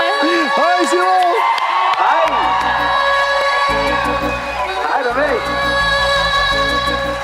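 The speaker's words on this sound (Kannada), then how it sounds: "ಜನ ಎಲ್ಲ ಉತ್ಸಾಹದಿಂದ ಚಪ್ಪಾಳೆ ತರ್ತೀರ ನಿಮ್ ವಾಯ್ಸ್ ಕೇಳಿ" Studio audience on a Kannada TV talk show cheers and whoops, with some clapping mixed in. The crowd noise is loud, close and continuous, with excited shouting voices throughout.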